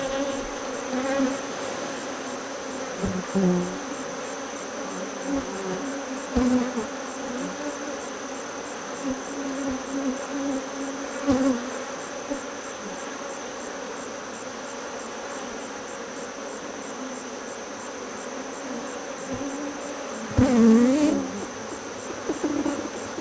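Honey bees buzzing around an open Apimaye hive during a honey harvest, a steady droning hum with occasional louder passes as individual bees fly close, plus a few faint knocks.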